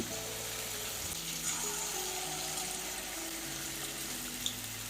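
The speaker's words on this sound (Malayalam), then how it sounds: "അടുത്തയും കൂടെ നമുക്ക് എണ്ണയിലോട്ട് ഇടാം ഇതേപോലെ കുറച്ച് കുറച്ച് ഇട്ട് കൊടുത്താൽ" Idli bonda made from leftover idli batter frying in hot oil, a soft, steady sizzling hiss heard throughout at low level, without talk.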